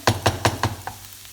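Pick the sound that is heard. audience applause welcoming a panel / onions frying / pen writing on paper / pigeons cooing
onions frying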